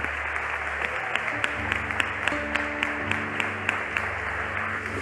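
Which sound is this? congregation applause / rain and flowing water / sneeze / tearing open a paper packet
congregation applause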